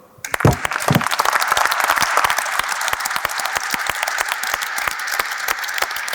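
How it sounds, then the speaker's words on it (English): A panel audience breaks into sustained applause, many hands clapping densely and fairly close, steady for several seconds after a brief quiet start. "I want to applaud you."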